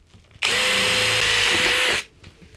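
A power drill bores out a hole in a belt sander's housing, one loud, steady whine lasting about a second and a half, starting and stopping abruptly with nothing else heard.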